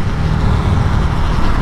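Road traffic noise from a vehicle coming up from behind while riding a Bajaj NS400Z motorcycle on a mileage test, a loud continuous low rumble with wind-like buffeting throughout.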